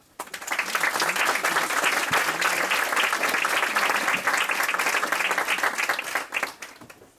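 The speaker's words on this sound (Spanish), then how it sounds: "nuestro invitado de honor, Juan Luis Cebrián, para quien les pido un fuerte aplauso." Warm applause from an audience welcoming an honored guest speaker at the Instituto Cervantes in New York, starting abruptly, holding a dense, loud clapping texture for several seconds, then tapering off.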